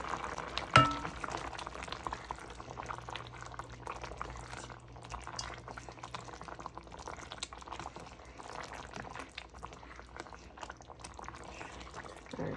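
Shrimp curry with coconut milk simmering uncovered in a pot, a continuous low bubbling and faint liquid burble that stays fairly quiet and steady throughout, with one brief clink near the start and no voices.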